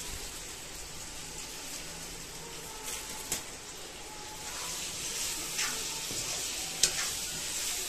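Vegetables (gonde) frying in a pan on an outdoor Rajasthani chulha wood stove, a steady soft sizzle with occasional scrape-like ticks of stirring, heard alone at moderate distance.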